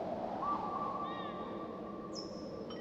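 Soft, airy wind-like hiss fills the background while thin sustained chime-like tones from wooden wind chimes and Tibetan bowls, faint high nocturnal bird calls and crickets drift in, calm and dreamy, in a VR game's night ambience.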